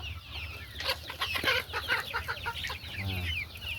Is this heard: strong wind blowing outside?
no